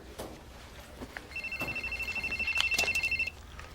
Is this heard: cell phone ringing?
yes